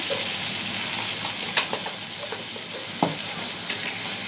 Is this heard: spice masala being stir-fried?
yes